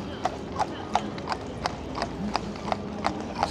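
Hooves of horse-drawn carriages clip-clopping on a Blackpool street at night, a steady, evenly spaced trot of sharp knocks over a busy background murmur of crowd and traffic.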